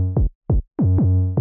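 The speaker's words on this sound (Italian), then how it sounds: "quindi si ottiene questo effetto di slide verso il basso del pitch che crea anche attacco." Deep synth bass notes from the production of a rap track, each starting with a quick downward pitch slide: two short separate hits, then two longer sustained notes back to back.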